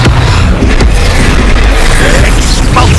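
An Expulso spell explosion in Hogwarts Legacy gameplay, a loud, dense booming blast with rumbling low end sustained for several seconds amid battle noise.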